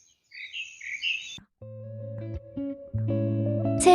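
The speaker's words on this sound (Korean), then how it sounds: "새소리는 여전하고요." Birds by a pond give a cluster of bright, quick chirps and tweets at moderate distance for a little over a second, then fall silent as sustained electronic musical tones take over.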